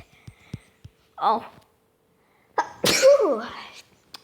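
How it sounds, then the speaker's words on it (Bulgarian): A single loud, close sneeze from a person, preceded by faint clicks and a brief vocal sound, with a short voiced exclamation trailing after it. "Поне не си кихнах върху телефона."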